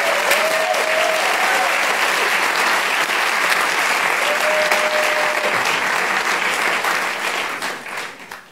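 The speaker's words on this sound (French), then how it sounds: "On peut l'applaudir," An audience applauds Adrián de la Vega at the OUT d'or 2017 awards ceremony, with steady, full clapping throughout that fades at the end, a faint voice briefly audible underneath.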